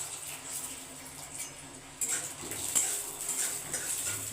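Peanuts frying in ghee in a kadai (wok) give a faint, steady sizzling hiss, growing slightly stronger partway through, with a few light metallic clinks of a utensil against the pan.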